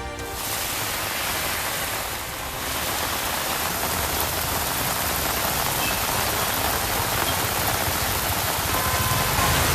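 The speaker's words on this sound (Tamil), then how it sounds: "உத்தரப்பிரதேச மாநிலம் கான்பூரில் தொடர் மழையால் குளம்போல் மாறிய முக்கிய சாலைகள்." Heavy, continuous rain pours down in Kanpur, flooding the main roads, a dense steady hiss with no voices, loud and close throughout.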